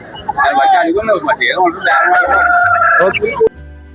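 At a weekly country chicken market in Gokavaram, East Godavari, a rooster crows loudly and close in a long drawn-out call, with market chatter and other fowl around it.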